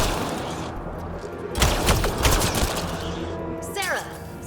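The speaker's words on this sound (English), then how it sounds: "Sarah, shoot them!" Gunfire crackles through a firefight in the video game Mass Effect: Andromeda, with a dense burst of shots in the middle and a trailing whoosh near the end, loud, over a busy background.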